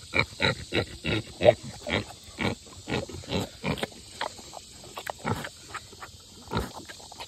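Deep, rhythmic grunting from a pig, short rough bursts repeating every half second or so, close by with some snuffling between.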